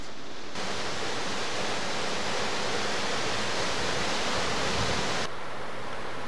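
Rainwater from a night of rain pouring off sandstone rock in a normally dry desert canyon at Natural Bridges, a loud, dense, continuous rushing roar like a small waterfall, steady from start to finish.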